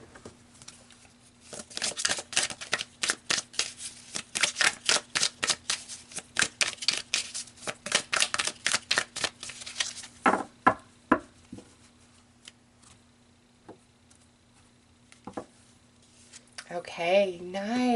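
Tarot cards are shuffled in a rapid run of crisp riffling snaps, followed by a few separate slaps as cards are pulled and laid down, close and quiet, with a voice starting at the end.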